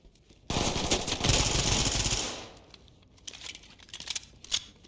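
Rapid SMG gunfire in the tactical shooter Ready or Not, a dense burst of automatic shots lasting about two seconds, followed by scattered clicks and shell-like clinks.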